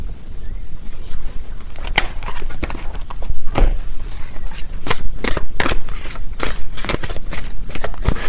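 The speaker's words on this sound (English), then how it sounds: "Let me get a few more tarot cards here." Tarot cards shuffled by hand up close, loud papery riffles and slaps in quick irregular bursts, with no speech.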